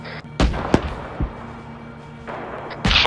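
Sharp gunfire bursts in the Arma 3 video game, several loud cracks spaced irregularly, with a distant rumbling battlefield ambience and Abrams tanks nearby, a few shots clustered at the start and a louder volley at the end.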